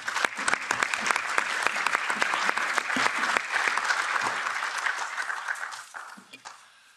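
Members of the European Parliament applaud after an address by Belarusian democratic leader Sviatlana, with loud, sustained clapping from a large chamber that thins and fades away toward the end.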